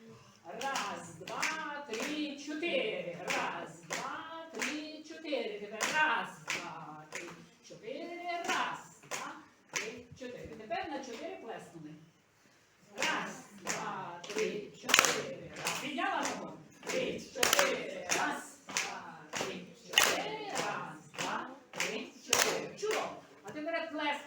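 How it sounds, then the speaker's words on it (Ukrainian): Rhythmic hand clapping on counts one and three during a children's folklore rhythm exercise, steady repeated claps mixed with a group counting aloud and talking throughout. "крім того, що рахуємо голосно, ми ще плескаємо на раз і на три"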